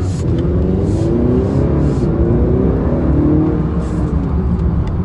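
A 2018 Honda Accord sport trim with a manual transmission and a 252-horsepower engine accelerates steadily, its engine note rising in pitch over a constant road rumble, loud and close throughout with no talking.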